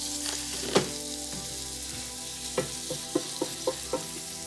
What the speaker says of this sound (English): So we hear the heat, it starts coming to the pan nice and slowly.